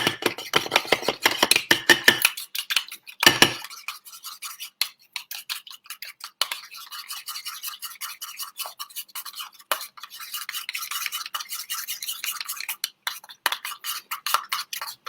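Mayonnaise sauce stirred with a utensil in a bowl, a loud, busy run of quick scraping and clicking strokes that stops briefly near the start, then resumes as lighter, steady rhythmic scraping.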